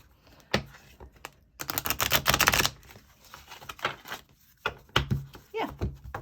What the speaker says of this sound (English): let's try a quick shuffle